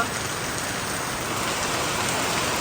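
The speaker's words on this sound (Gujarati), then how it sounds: "મિત્રો જો વરસાદની સ્પીડ વધી હ." Heavy rain pours steadily and loudly, a dense even hiss of drops hitting surfaces that holds strong and builds slightly over a few seconds, with no voices.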